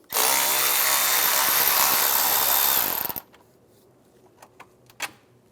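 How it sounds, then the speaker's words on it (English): A power driver with a T25 socket whirs continuously for about three seconds, backing a screw out during removal of the A/C condenser on a 2004-2010 BMW X3, then stops, followed by a few faint clicks and taps. "Now I'm going to use a T25 socket. Take this screw out."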